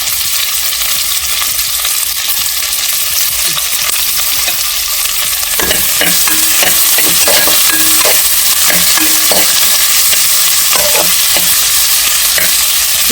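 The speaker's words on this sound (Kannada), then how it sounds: "ಇದು ಎಲ್ಲ ಹಾಕಿ ಚೆನ್ನಾಗಿ ಫ್ರೈ ಮಾಡಬೇಕು." Onions frying loudly in a pan for a spicy coastal chicken curry, a dense continuous sizzle up close with repeated rhythmic spatula scrapes and stirs through the middle, no talking.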